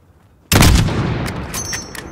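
A single loud rifle shot in Call of Duty, fired at a target 600 meters away, bursting suddenly out of near silence and then rolling off in a long, booming echo.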